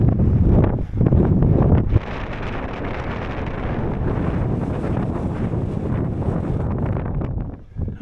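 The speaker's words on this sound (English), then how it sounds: "I don't think there's going to be a respite from this wind." Strong gusts buffet the microphone on an exposed stretch of the Berwickshire coastal path in Scotland, loud roaring bursts easing into a sustained rushing wind that rises and falls over several seconds.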